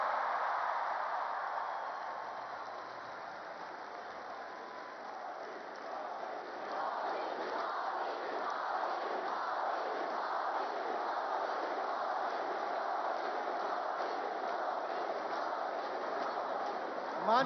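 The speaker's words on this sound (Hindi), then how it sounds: "ये मोदी मोदी की गूंज आज भारत में नहीं, दुनिया के कोने कोने में है।" Large crowd at an event with Prime Minister Modi, chanting in a rhythmic repeated pattern that rises after a few seconds and continues steadily, muffled and somewhat distant.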